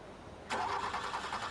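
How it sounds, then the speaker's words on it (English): A diesel engine cranks and fires from cold, bursting into a rough, steady idle after a short quiet moment, near and moderately loud. "Diesel engines need assistance to make cold starting easier."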